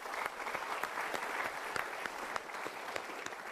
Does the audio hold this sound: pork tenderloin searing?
no